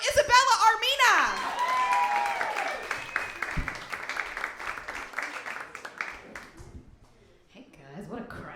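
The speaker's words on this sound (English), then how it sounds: "Please give it up for Isabella Armina" Comedy club audience applause at West Side Comedy Club as a comedian takes the stage, a broad wash of clapping and crowd noise that rises loudly at first, then thins out and fades under a host's amplified voice and some music.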